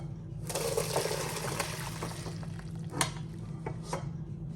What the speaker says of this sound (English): I'm going to turn off the heat and strain the water.